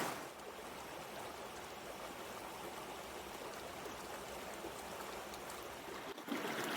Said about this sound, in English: I'm standing in a stream, so I'm hoping that these boots hold out.